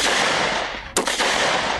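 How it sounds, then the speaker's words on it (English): A single sharp gunshot cracks out about midway, followed by a brief echoing tail, set against steady hiss and background noise; no voices. "fired 2 more shots into each victim"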